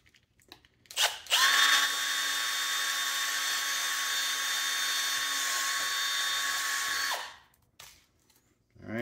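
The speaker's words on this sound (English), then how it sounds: "that's where we're gonna drill the hole for the cable gland. So I'm gonna use the small bit that I use for the screws to start the hole." Power drill with a small bit boring a starter hole for a cable gland in a kayak light base, a steady high whine of about six seconds that starts and stops abruptly, with no talk.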